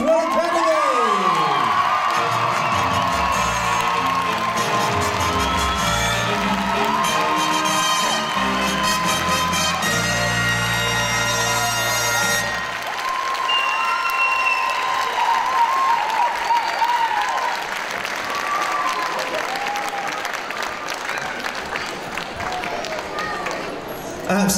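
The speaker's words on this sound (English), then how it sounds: "Make some noise for Shepherd's Well Academy!" Audience at a 2018 school ballroom dancing awards ceremony cheering and applauding loudly and steadily, whoops and children's shouts over dense clapping, with background music at the start and a voice talking over the crowd.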